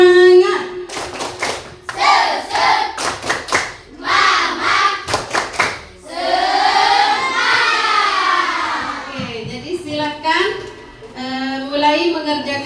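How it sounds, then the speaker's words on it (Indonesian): A class of children does the tepuk semangat spirit clap, loud sharp bursts of rhythmic hand claps mixed with chanting young voices, then a stretch of children's group singing or chanting with more clapping near the end. "Tepuk semangat."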